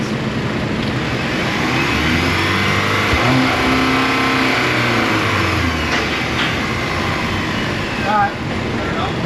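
A Cadillac engine is started and revved in a repair shop, rising and falling steadily beneath the shop's background noise, with mechanics talking over it.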